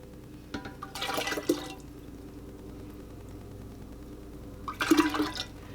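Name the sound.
hot tea being strained through a strainer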